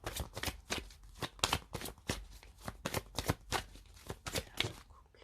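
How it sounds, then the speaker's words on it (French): Oracle cards, a deck of angel cards and chakra cards, shuffled by hand in a quick run of crisp, papery riffles and taps, close and fairly quiet, with no talk over them. "on va prendre une carte des anges de l'amour et une carte des chakras du cœur"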